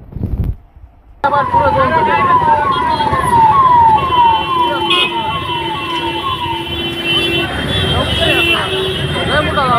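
Fire engine siren wailing loudly and continuously at the scene of a fire at a Malabar gold jewellery shop in Nanded, its rising-falling tone close and sustained over crowd noise and traffic.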